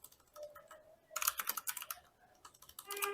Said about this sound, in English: excuse my typing speed.